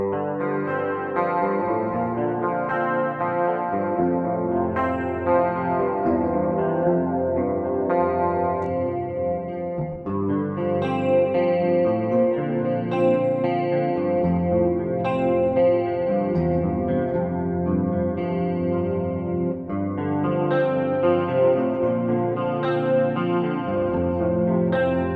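A Gibson Flying V electric guitar with BareKnuckle Nailbomb pickups plays clean tones with a slight chorus shimmer, rhythmic strummed chords and picked notes repeating steadily, close and alone.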